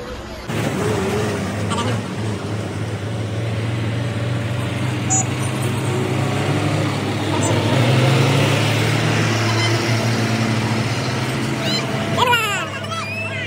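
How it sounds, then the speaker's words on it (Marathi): A road vehicle sets off at the start of a trip to Jejuri, its steady engine and road hum continuing throughout at moderate level, with people talking and singing over it inside the cabin. "गाडी सुरुवात झाली"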